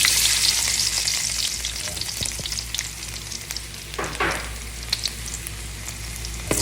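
Garlic sizzles and crackles in hot cooking oil in a pan, a loud, close, steady frying hiss with a few stirring scrapes and no talking.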